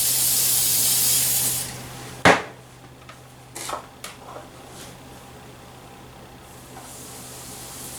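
Non-stick cooking spray is sprayed onto a waffle iron in one short, sharp hissing burst, followed by a few small clicks and clatters over a faint steady hum.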